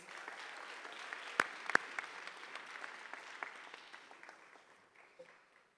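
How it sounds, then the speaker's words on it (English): Audience applause at a youth business awards ceremony in KZN: fairly faint, scattered clapping with a few sharp, louder claps up close, tapering off toward the end. "Can we please give them a round of applause?"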